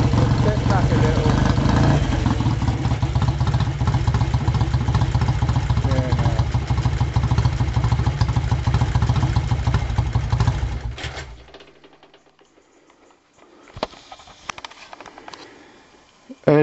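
A 1960s racing motorcycle engine idles loudly and close by with a steady, rough, throbbing beat, then cuts out after about eleven seconds, leaving near silence broken by a few faint clicks and knocks.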